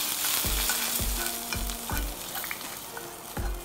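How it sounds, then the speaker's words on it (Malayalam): Hot golden-fried seasoning poured into a Kerala coconut fish curry, a loud sizzle with repeated stirring knocks at a steady rhythm, no talk. "ഞാൻ ദാ ഇതുപോലെ കറിയിലേക്ക് ഒഴിച്ചു കൊടുക്കുകയാണ് ആ ചൂട്ടോടുകൂടി തന്നെ"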